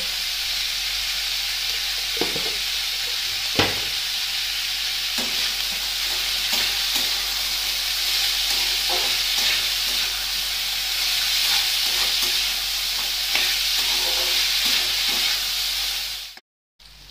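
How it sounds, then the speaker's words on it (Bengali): Potatoes and capsicum browning in a pan for fried rice give off a steady, close sizzle and hiss, dotted with occasional utensil scrapes and taps, before the sound cuts off abruptly near the end. "আলু ক্যাপসিকাম এগুলো একটু লাল লাল করে ভেজে নিচ্ছি"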